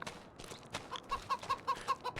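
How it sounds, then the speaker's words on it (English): Free-range chickens in Farming Simulator 25 cluck close by, starting as scattered soft clucks and building into a steady run of short, regular clucks. "So as you can tell, we do have free-range chickens."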